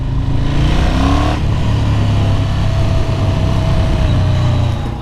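Ducati Monster 1100 Evo motorcycle engine, close and loud, with a throttle blip and rising rev early on, then settling into a steady, throbbing twin-cylinder drone for the rest of the clip.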